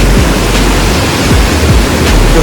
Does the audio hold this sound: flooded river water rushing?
yes